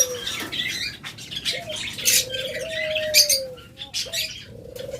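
Caged lovebirds chirp and tweet in short, scattered bursts amid a busy background of many birds, with a few longer whistled notes rising above the steady chatter.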